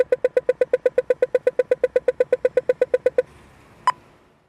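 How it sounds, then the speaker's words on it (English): A road crossing signal gives a rapid, steady series of about twenty-five sharp electronic ticking beeps, loud and close, then stops, followed by a single higher beep after a short pause. "a road crossing signal"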